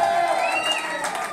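A wrestling crowd at a tag team match cheers and shouts in a continuous roar, with a commentator's voice mixed in over it.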